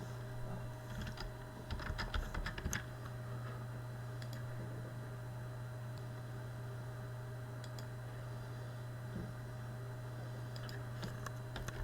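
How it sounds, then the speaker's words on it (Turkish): Keyboard typing while entering a root username and password into a vCenter login in a browser, a quick run of near keystrokes early on, then sparse taps over a steady fan-like hum. "kullanıcı adımız root ve şifremizi yazıyoruz."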